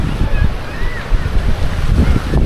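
Sea waves at Dhanushkodi breaking and surging in a continuous loud rumble with gusty wind noise, close and unbroken throughout.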